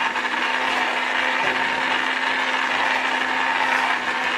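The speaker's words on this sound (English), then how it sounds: "And that is why I'm using my stick blender here." Stick blender pureeing a tomato and onion gravy, a steady loud whirring grind that runs unbroken and close throughout, with no talk.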